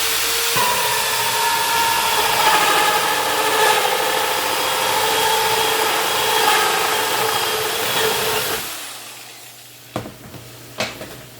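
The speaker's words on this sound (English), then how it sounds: "Put my drill bit right on that knot" A power drill whines loudly and continuously for several seconds boring into a wood knot, then cuts off, followed by a couple of short bursts.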